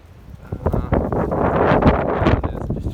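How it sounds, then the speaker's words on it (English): Strong cold wind buffets the microphone outdoors on a lawn during dethatching, a loud rushing roar with gusty rustling that swells and holds steady, heard close with no speech. "So I'll be fighting the wind today."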